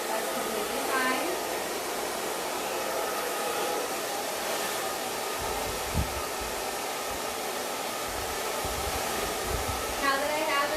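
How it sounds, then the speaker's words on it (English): Hair dryer blow drying sections of hair with a paddle brush, a steady, close, loud whooshing hiss that runs throughout, with faint low thumps and brushing noises beneath. "I'm blow drying those two sections together"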